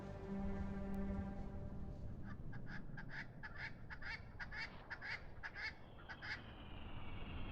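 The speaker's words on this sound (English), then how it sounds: "I hear ducks" Ducks quack in a game scene from Heart of the Machine: a quick run of faint, repeated nasal calls in a busy series after a low sustained tone fades.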